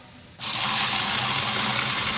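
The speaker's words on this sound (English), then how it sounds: "I scooped about almost 2 cups of rice in here. I'm going to wash this." Cool tap water gushes steadily into a pot of about two cups of rice being washed for a vegan seasoned rice dish, starting abruptly after a quiet moment and running loud and continuous to the end.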